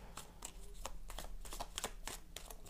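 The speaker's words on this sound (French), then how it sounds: "Alors, Ursulala, on va faire un tirage" Tarot cards are shuffled for a draw, giving a quick run of soft, close riffling bursts at an irregular rhythm, with no talking.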